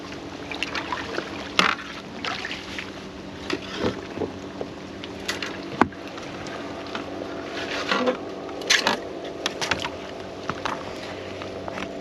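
Sea kayak paddling on open water off Florida on a solo island camping trip, irregular splashes and drips from the paddle strokes over light wind, moderately close and fairly quiet.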